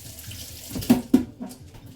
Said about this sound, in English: And then I'm going to rinse my fingers.